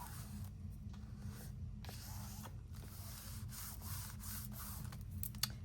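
A tool burnishes paper inside a handmade album, making soft repeated rubbing and scraping strokes at close range, quiet and irregular.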